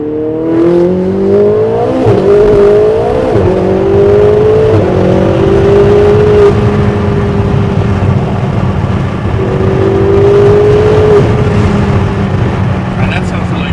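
A Ferrari 488 fitted with a loud Quicksilver aftermarket exhaust revs several times close by, the engine note climbing in rising pulls, then holding a steady drone before another brief rev.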